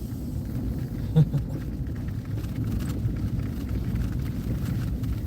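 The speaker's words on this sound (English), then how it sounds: "I get to this intersection and 42 cars come to it." Cars at a city intersection in Pittsburgh's Station Square area, heard as a continuous low traffic rumble with a brief nearby thump, all fairly close, with wind buffeting the microphone.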